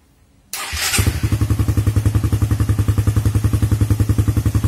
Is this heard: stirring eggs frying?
no